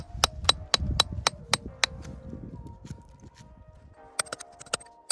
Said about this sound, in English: I laughed pretty hard at the sound of the hammer hitting the chisel as it sped up.